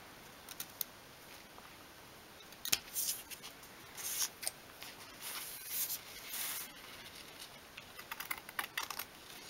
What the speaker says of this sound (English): if you've got a lot of excess left here in the corners, you can just snip that off.